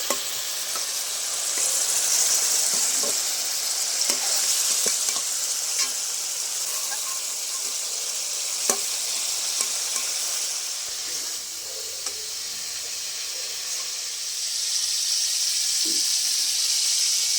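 Ridge gourd fries in hot oil with a steady, dense sizzle and hiss, with occasional light pops and clicks, continuous and fairly loud throughout.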